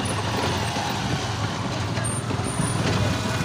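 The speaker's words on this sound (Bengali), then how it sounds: "পুরো মেরিন ড্রাইভ। আমরা চললাম টোটো করে।" Riding an electric rickshaw along Puri's Marine Drive: a steady, loud roar of road and wind noise with passing traffic rumbling continuously, no clear voices.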